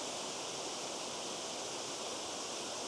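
Tianna Falls pours in a steady, even hiss of rushing water, a constant broadband roar with no breaks and no voices.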